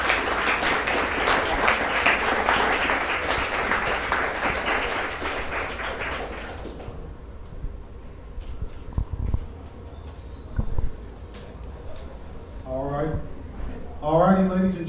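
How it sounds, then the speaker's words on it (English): Audience applause follows a debate on child marriage: a dense, sustained burst of clapping that fades after several seconds into room noise, with scattered knocks and a voice speaking near the end. "let's give a round of applause before we start the Q&A"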